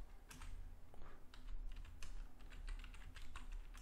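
Fast, steady clatter of a computer keyboard as someone types C# code, the keystrokes close and continuous over a low background hum.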